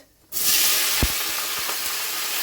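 Chopped onion drops into hot oil spiced with whole garam masala, bay leaf, cloves and a dried red chilli. A loud, steady sizzle erupts at once and keeps hissing, with a soft clunk or two from the pan.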